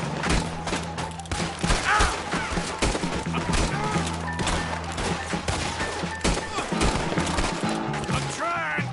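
Rapid gunfire fills a Red Dead Redemption 2 wagon-pushing shootout, with dense repeated shots and impacts throughout, loud and close, mixed with game music and occasional shouting voices.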